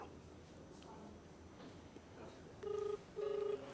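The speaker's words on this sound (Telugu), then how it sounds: "రింగ్ అవుతుంది." An outgoing phone call rings back in two short electronic ringback tones, heard faintly over a low background hum.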